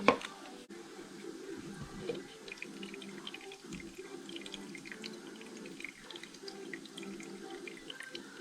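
Gasoline trickles and splashes steadily from a lawn mower carburetor as it drains, a soft continuous liquid pour heard close up with small drips and no voices.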